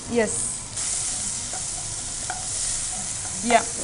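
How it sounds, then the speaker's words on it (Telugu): Tomatoes, mint and carrot pieces frying in melted butter in a pan, a close, steady sizzle with scraping stirring strokes at intervals. "బటర్ కొంచెం వేడైన తర్వాత అంటే కరిగిన తర్వాత మెల్ట్ అయిన తర్వాత దాంట్లో కొంచెం టొమాటోలు వేసుకుంటున్నాం, అలాగే పుదీనా వేసుకున్నాం"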